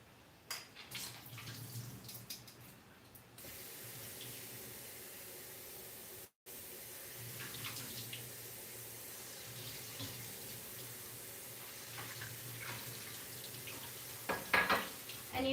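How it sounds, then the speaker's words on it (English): Tap water runs steadily into a strainer while de-skinned mung beans are rinsed in a kitchen sink, a continuous moderate splashing hiss with occasional knocks of the vessel and a brief break partway through. "These are de-skinned mung beans, so we're just going to go ahead and rinse them out too."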